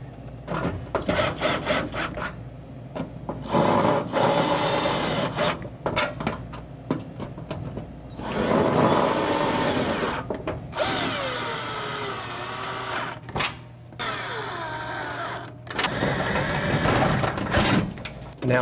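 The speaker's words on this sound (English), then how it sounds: "I have to go and tighten every one of these nuts. I decided to hook this up to my drill" A power drill whirs in repeated bursts, tightening nuts on a soda machine, stopping and starting as it spins, with clanking metal and workshop noise between runs.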